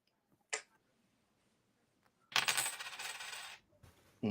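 A brief clinking burst of coins dropping, dropped in as a sound effect during a finance talk show, with a short tick early on and a louder jingling cascade lasting about a second near the end.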